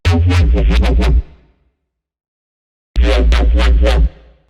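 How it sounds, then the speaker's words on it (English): A Serum synth preset with automated LFO frequency in an Ableton remix, two loud bursts of wobbling, rhythmically pulsing tone over heavy low end, separated by a stretch of silence. "I added these little automations of the frequency of the LFO to add more variety"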